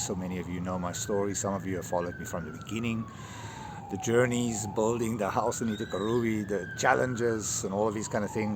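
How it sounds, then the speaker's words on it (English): A wailing emergency siren on a morning in Paraguay, its pitch rising and falling in slow sweeps, carries on steadily under someone talking close to the microphone. "I do apologize for the siren at the moment."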